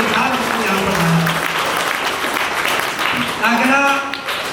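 An audience breaks into loud, sustained clapping that fills the whole stretch, with a voice speaking over the applause at moments.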